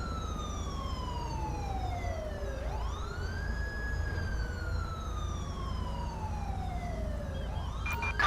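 Ambulance siren in GTA V with the LSPDFR mod, wailing in long rising and falling sweeps over a low engine rumble, fairly close and steady.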